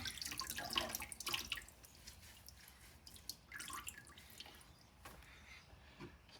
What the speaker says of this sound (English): squeeze the water out.